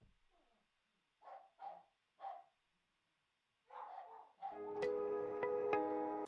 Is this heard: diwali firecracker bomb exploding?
no